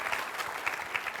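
Applause at a film Q&A, a brief patter of clapping at moderate level with a fairly even, steady rhythm and no talk over it.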